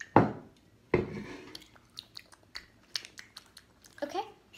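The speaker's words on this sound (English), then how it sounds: "So chewing the first one." Someone chewing a weird snack close to the microphone, with a loud crunchy first bite followed by softer, irregular chewing and mouth sounds.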